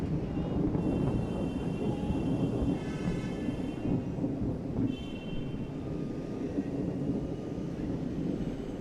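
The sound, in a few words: loud thunder at an outdoor cricket ground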